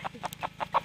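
A Rhode Island Red hen clucks in a quick, steady series of short, fairly soft calls among young chicks in a garden.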